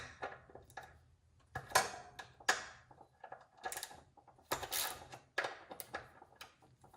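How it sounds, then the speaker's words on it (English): Allen key working the 6mm pinch bolts on the front forks of a Triumph Daytona 675, giving a run of close, sharp metallic clicks and ratcheting ticks in irregular bursts, fairly quiet with no talk. "we're gonna go ahead and loosen up our pinch bolts. They're 6mm Allen."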